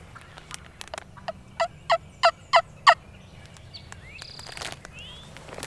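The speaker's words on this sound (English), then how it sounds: "There's several birds started gobbling again over towards where they all scattered." Wild turkeys gobbling on public land in Tennessee during spring turkey season, a burst of five loud rattling gobbles in quick succession, fairly distant, over quiet outdoor background with a few other bird calls.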